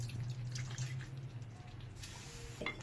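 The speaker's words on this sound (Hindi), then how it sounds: "ये जो हमारी प्लेट में रह गए ना मसाले, ये भी इस तरह करके हम पानी से डाल लेंगे।" Water is poured onto a plate to rinse off leftover ground spices while nihari cooks, giving faint trickling and splashing over a low kitchen hum, with a sharper splash near the end.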